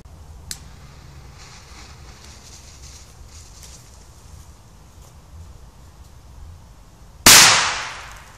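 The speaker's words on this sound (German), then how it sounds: "So, weiter geht's mit dem B-Böller." Quiet outdoor rustle with a faint click, then a single sharp category B firecracker bang near the end that rings out and fades.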